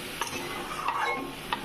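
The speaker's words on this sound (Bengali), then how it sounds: "চিকেনটা নাড়াচাড়া করে নিয়ে 2 মিনিটের জন্য ঢাকা দেব।" Spiced chicken pieces being stirred in a pan for a Maharani pulao, a few soft scraping knocks of a utensil over a low continuous sizzle, close by with no talking.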